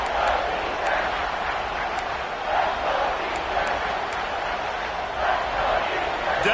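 A stadium crowd roars steadily during a Texas A&M college football video game on a third-down defensive stand, a broad sustained rumble of noise with a commentator talking over it.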